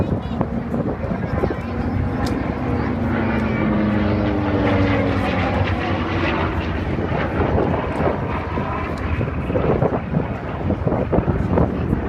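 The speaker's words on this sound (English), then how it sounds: "The fighter we see there is an F-4F." A World War Two F4F fighter plane drones overhead at a wartime airshow, its propeller engine rising and falling through steady wind buffeting, while people talk nearby throughout.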